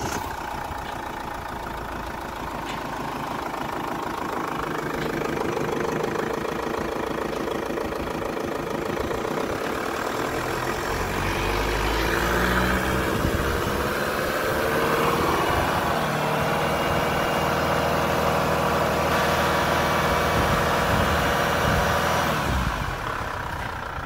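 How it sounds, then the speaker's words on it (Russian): An Opel engine from a 2007–2015 Antara runs at a steady, close idle with a continuous mid-range hum and a busy mechanical rattle. It holds an even level for the whole stretch, with no voices. "Запускаем двигатель."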